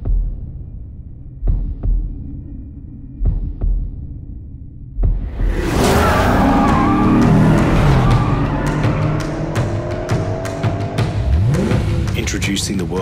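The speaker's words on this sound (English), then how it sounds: "showed the world just how thrilling it is to drive a Lexus RCF" A Lexus RC F car starts with a few slow thumping heartbeat-like pulses, then its engine roars loudly and keeps revving as it drives, with sharp bursts scattered through the rumble.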